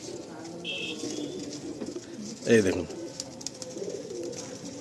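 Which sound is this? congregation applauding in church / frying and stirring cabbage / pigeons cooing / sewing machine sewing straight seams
pigeons cooing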